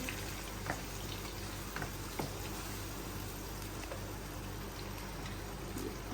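Finely chopped garlic cloves fry in hot oil with a steady, soft sizzle and bubbling, stirred now and then with faint scrapes, quiet and close throughout with no talking.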